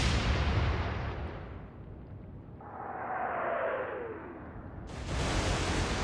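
A heavy naval gun booms in the Atlantic Fleet naval warfare game, a loud broadband blast fading into a long rumbling roar, then a descending whistle of the shell in flight and another sharp burst at the end.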